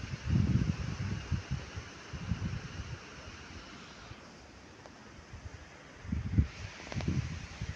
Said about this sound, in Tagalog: Tsaka malakas ang hangin